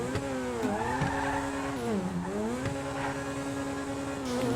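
A car in GTA V accelerating hard and shifting gears, the engine note climbing and dropping in steady harmonic sweeps with each shift, loud and continuous with faint tire squeal, no talking.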